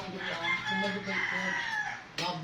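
Chicken clucking with a rooster crowing, heard outdoors during a meal away from home; fowl calls stretch across the whole stretch at moderate loudness, with faint background noise and a sudden burst of sound near the end.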